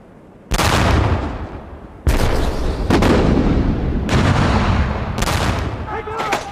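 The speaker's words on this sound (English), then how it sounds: "British artillery began pounding the German defences" World War One British artillery bombardment of German defences, heavy booming shell fire in repeated deep blasts that each roll into sustained rumbling, loud and dense with little pause between rounds.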